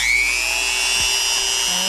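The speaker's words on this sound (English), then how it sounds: "I've plugged into my GFCI here just to test it, my Dremel again," A Dremel rotary tool, powered from a sprinter van's electrical system through a GFCI outlet, whines at a steady high pitch throughout, close and loud with no speech.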